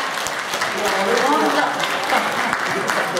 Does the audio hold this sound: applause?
yes